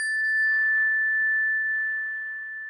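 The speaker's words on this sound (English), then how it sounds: "listen to the sound of the bell" A single bell strike rings out with a clear, pure tone that hangs in the air and slowly fades over a few seconds.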